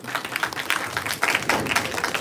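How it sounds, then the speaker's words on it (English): Audience applause for a spine surgeon and neurosurgeon being introduced at a live medical event, a steady dense patter of many hands clapping throughout at moderate distance. "A big round of applause for Dr."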